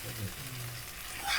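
A prawn ghee roast masala mixture frying in a pan on low heat, giving a brief, soft, even sizzle with no distinct clatter.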